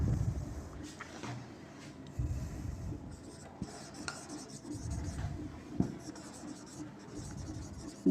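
Chalk or marker scratches across a classroom board in short irregular strokes, a faint dry rubbing sound with small pauses between words.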